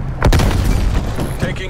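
A frag grenade goes off in the shooter game Black Ops Cold War as a loud, close boom with a heavy low thud, followed by rumbling battle noise and game voice chatter.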